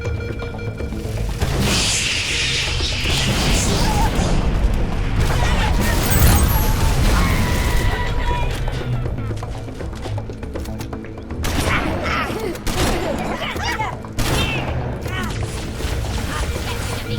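Repeated heavy explosive booms and crashes from fuel rod cannon fire in Halo 3, over a continuous rumbling background, loud and dense with a few sharp blasts.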